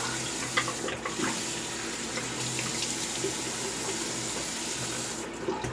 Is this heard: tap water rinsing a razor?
yes